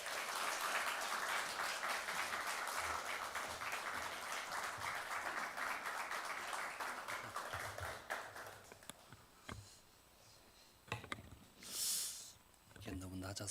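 A church congregation claps to welcome a pastor at a Saturday special dawn prayer service, a dense, steady wash of applause for about eight seconds that then thins into scattered claps, shuffling and room noise.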